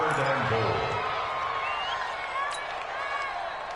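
A stadium crowd in an American football video game roars steadily at moderate volume, building toward a big third down, with commentary voices layered over it.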